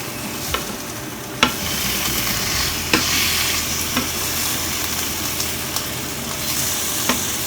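Bacon frying in a pan for a bacon sandwich, a steady broadband sizzle with a few sharp pops and spatters scattered throughout, close and alone with no voices.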